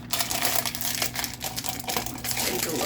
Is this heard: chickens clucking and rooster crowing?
no